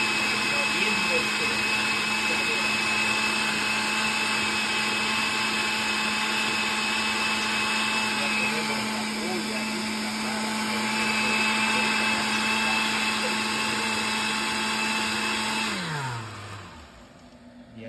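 An electric blender grinds garlic cloves with a sustained steady motor whine and a high pitched tone, close and loud for about sixteen seconds before the motor winds down and stops, with no talk over it.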